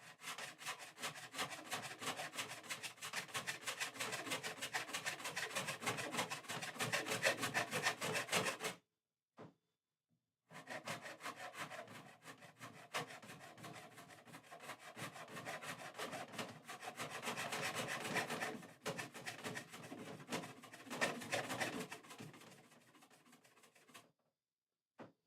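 A custom guitar neck's transition and volute are hand-shaped on a wooden workpiece with steady, close rasping and rubbing strokes. The strokes run continuously for about nine seconds, pause briefly, then resume until near the end.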